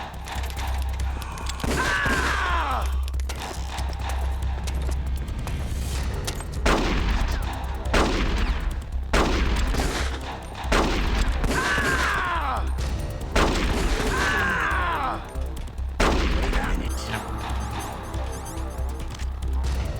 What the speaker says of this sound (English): Stop bouncing your bullets at me